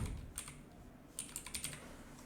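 Typing on a computer keyboard while entering a search term on a design website, with a short burst of faint, quiet keystrokes followed by a steadier run of clicks.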